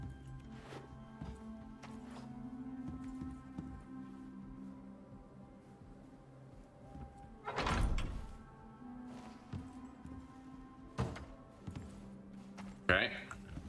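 Crafting benches, a machining bench and a mortar and pestle, set down in the survival game Icarus: a few dull, scattered thunks at uneven intervals over a steady low ambient hum, with no talking.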